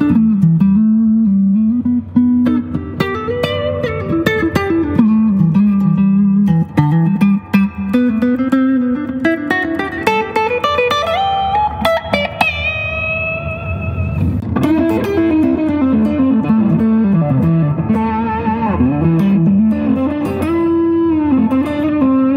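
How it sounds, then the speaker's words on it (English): A heavily distorted electric guitar plays sustained, bending notes and chords, ringing out with long sustain and no voices. "especially if you hook it up with distortion pedals or gain pedals"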